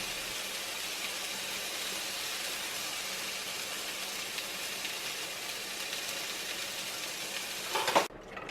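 Chicken cooks in a pan with a continuous, even sizzle close by, no voices, ending in a short clatter and sudden quiet.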